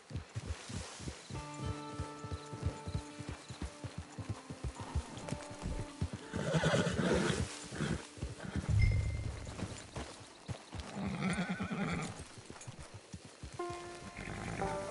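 Horse hooves clop steadily with a whinny rising partway through in the game Red Dead Redemption Online, among rustling and game-like ambient sound effects at moderate volume.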